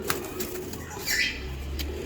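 A brief flurry of pigeon wing flaps sounds close by, followed by a low, steady hum in the background.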